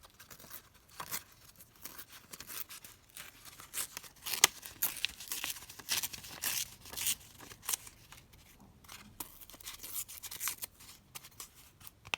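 Paper pieces torn by hand for craft clusters, a run of short crisp rips and crinkles with soft rustling in between, close and fairly quiet, no talking.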